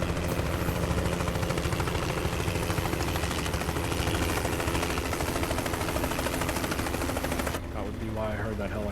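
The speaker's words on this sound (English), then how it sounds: "That would be why I heard that helicopter." A helicopter in the truck-driving game American Truck Simulator thumps with rapid, steady rotor chop, loud and continuous, cutting off near the end as a voice speaks over a quieter background.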